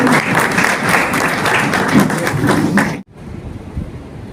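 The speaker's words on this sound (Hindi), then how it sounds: "जोरदार तालियों से स्वागत करेंगे" Loud, dense clapping from an audience of advocates welcoming a chief minister at a bar association event in Agra, continuing for about three seconds before cutting off abruptly, followed by quieter room noise.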